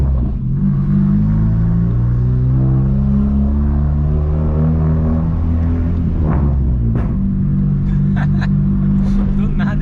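Deep, loud exhaust rumble from a 1999 VW Gol G2 1.0 8V fitted with an HKS muffler, idling and cruising in a city street, a steady low burble close up with people talking over it.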